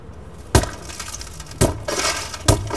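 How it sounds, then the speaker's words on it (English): Car side window glass on a 2015 Volvo V40, fitted with 150-micron anti-smash film, struck three times by a hammer, each blow a loud sharp crack followed by crunching and tinkling of fractured glass held in place. "Almost immediately, the glass shatters, but the film keeps it in place for longer."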